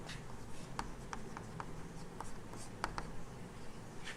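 Pen or pencil writing notes during a Hindi-language class 10 chemistry lesson, with a handful of short, faint scratchy strokes spread across a quiet room background and no talk.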